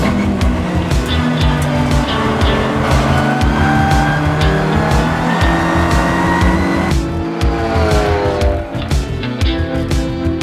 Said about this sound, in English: It's going to be losing the rear, too much speed carried, and into the gravel.